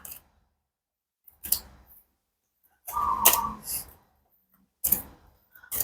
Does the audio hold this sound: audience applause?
no